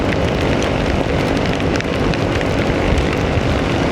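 Steady, dense rain pouring down, a continuous broadband hiss with no pauses, loud and close throughout.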